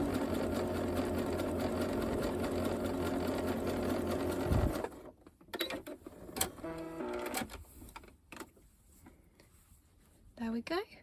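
A sewing machine runs a steady, continuous stitch along a gusset seam in stretch fabric for several seconds, then stops, leaving handling clicks and rustles while a person talks.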